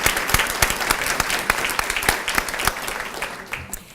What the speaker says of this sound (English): And a big, big round of applause for them.